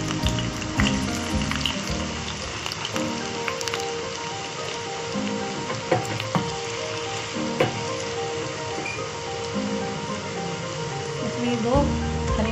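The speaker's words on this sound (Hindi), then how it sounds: "अब इसमें हम बघार करते हैं प्याज को।" Chopped onion sizzling and crackling in hot tempering oil for a lobiya kadhi, a steady broadband fry hiss running throughout with occasional sharper pops, close and fairly loud, with a voice speaking over it.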